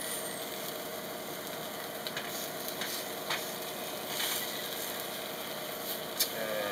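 A tuna burger sizzles steadily in a hot pan, a soft, even hiss with a few faint crackles and pops, heard alone without talk.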